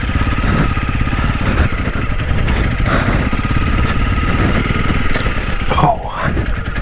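A Honda CRF 300 Rally motorcycle engine drones steadily and loudly up close while trail riding, a continuous mid-pitched thrum with slight swells and one brief dip near the end.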